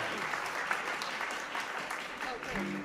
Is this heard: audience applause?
yes